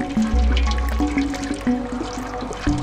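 Water in the video game Stray, a close, loud run of liquid gurgles and drips in an uneven rhythm with short tonal plinks, heard alone without talk.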